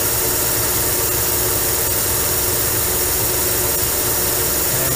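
A metal lathe runs steadily through a turning cut with coolant, a loud continuous mechanical drone and hiss with a faint regular tick, steady in level from start to end.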